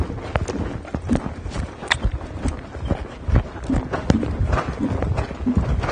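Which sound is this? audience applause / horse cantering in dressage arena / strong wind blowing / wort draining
horse cantering in dressage arena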